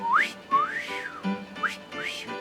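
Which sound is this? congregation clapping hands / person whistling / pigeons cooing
person whistling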